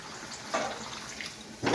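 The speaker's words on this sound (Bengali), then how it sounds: "জল দিয়ে দিলাম" Water is poured into a pan of cooking pumpkin, making a soft, close splashing rush that swells twice within a couple of seconds.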